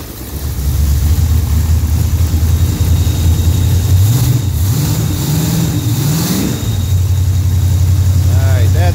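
A carbureted Pontiac engine with a Quadrajet carburetor cranks and catches, revs up and down a few times, then settles into a loud steady idle up close.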